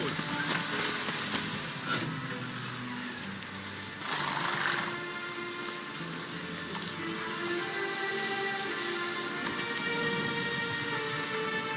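Steady rain hiss in a video game, a dense even patter filling the background for the whole stretch, with a brief louder burst partway through and faint game music and voices underneath.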